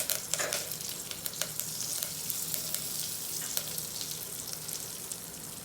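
Curry leaves and turmeric fry in hot oil for a rasam, giving a steady close sizzle with scattered crackles and pops throughout and no voices.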